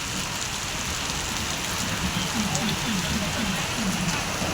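Heavy rain pours at a bus stand in Sirsi as a steady, dense wash of hiss that fills the whole clip at an even, close level, with no voices over it.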